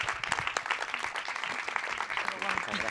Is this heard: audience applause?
yes